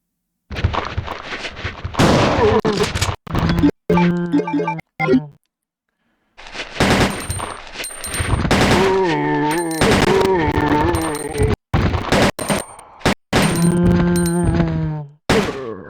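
Rapid bursts of pistol fire against zombies in Resident Evil 2 (Dual Shock Version, Leon A), loud and close, coming in dense clusters separated by brief silent gaps.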